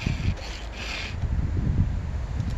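Hand file rasping across the teeth of a rip chainsaw chain used for milling, a steady scraping rub that runs continuously at close range with bursts of higher grit, no talking.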